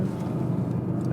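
A Mercedes GLE 63s AMG coupé's exhaust burbles and crackles as the driver lifts off the throttle, a fairly quiet, rough low rumble heard from inside the moving car.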